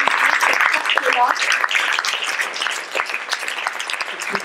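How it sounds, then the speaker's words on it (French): Audience applause at a science event, dense clapping that fills the clip with some voices and cheers mixed in, loud and steady before easing slightly toward the end. "je voudrais qu'on les applaudisse tous"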